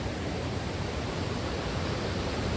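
Heavy rain and a rushing stream near Kalu waterfall on a monsoon trek, heard as a dense, steady roar of water that fills the whole clip with no voices.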